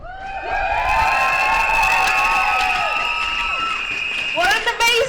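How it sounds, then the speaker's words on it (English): A large crowd at a teachers' rally outside the Senedd cheers and whoops loudly, with shouts and some clapping swelling and holding for several seconds before fading as voices break through. "What an amazing crowd, eh?"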